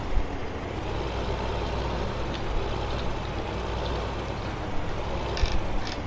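A truck pulling a fully loaded trailer in Farming Simulator 2015 rumbles along with a steady low engine drone, joined by faint mechanical clicks and a brief hiss near the end, with no talk.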